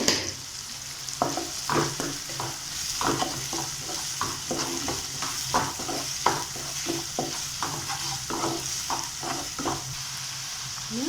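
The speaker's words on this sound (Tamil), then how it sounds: "இப்போ வந்து சீக்கிரமாக வெங்காயம் வதம் நமக்கு" Onions sauté in a pan while being prepared for kothu bread. A continuous sizzle sits under a run of rhythmic scraping strokes from a spatula, close up and with no voices.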